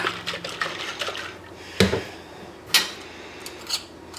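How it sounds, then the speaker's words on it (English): Milk pours into a jar of kefir grains, a close liquid trickle broken by a few sharp clinks of glass and utensils. "Then I'm going to pour in milk."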